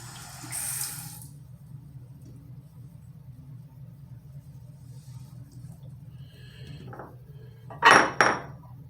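Running water splashes while someone rinses off after a face shave, with a short burst near the start and a louder, brief gush near the end over a low steady rumble.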